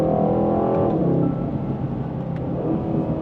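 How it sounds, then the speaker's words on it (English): A 2025 Aston Martin Vantage engine pulls away from a green light at a city intersection, a deep rising drone that eases into a lower steady rumble, heard from inside the car with no talk. "time it so I get the green light so I can accompany it with engine note, because the engine note is so good"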